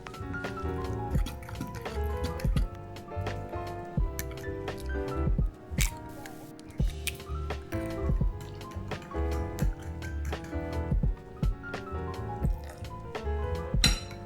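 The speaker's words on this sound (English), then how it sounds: "I'm mixing all my wet ingredients of 2 mashed up bananas, half cup of Greek yogurt, 1 cup of olive oil, 1 cup of honey" Mashed bananas, Greek yogurt, olive oil, honey and vanilla extract are stirred together in a bowl, giving close, wet squishing and dripping sounds with light clinks against the bowl, a steady rhythm running throughout.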